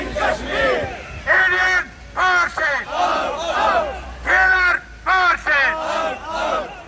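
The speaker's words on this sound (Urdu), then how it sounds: "مظاہرین نے اس موقع پر انڈیا کے خلاف زبردست نعرے بازی بھی کی" Protesters outside an embassy chant anti-India slogans over Kashmir, a loud crowd of voices shouting in rhythmic bursts with short pauses between phrases.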